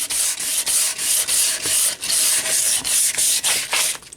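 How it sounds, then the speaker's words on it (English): Hand sanding scrubs over painted filler on a treadle lathe under restoration, a close, loud rasping hiss in steady back-and-forth strokes of roughly even rhythm. "We're just going to go over and sand most of that off"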